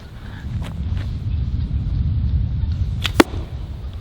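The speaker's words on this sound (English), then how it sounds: "You heard that thwack." An arrow from a bow strikes a target with a single sharp, close thwack, set against a low steady outdoor rumble.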